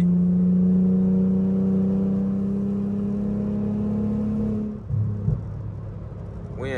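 A Mercedes V6 E320 engine hums steadily while driving at night in third gear, a low, even drone that eases off toward the end with a brief shift-like dip.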